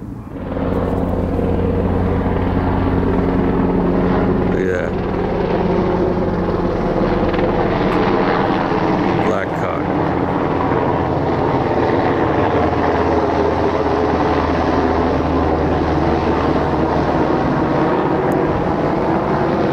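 A loud airplane flies overhead, its engine a heavy, continuous roaring drone that holds steady the whole time and swells slightly near the middle, with no voices.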